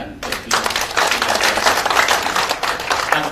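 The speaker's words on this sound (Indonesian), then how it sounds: "Tepuk tangan buat beliau." Audience applause at an outreach seminar: a crowd claps steadily and fairly loudly for about three seconds, the dense patter holding even throughout after a brief quiet start.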